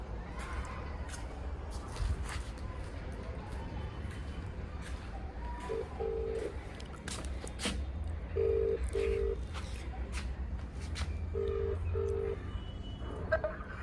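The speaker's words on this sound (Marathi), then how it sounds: "फोन लावतो आहे" A phone ringback tone sounds in three double-beep pairs, spaced a few seconds apart, over steady background noise.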